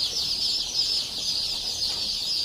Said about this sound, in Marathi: आपण प्युअर गावठी कोंबडी पाळतो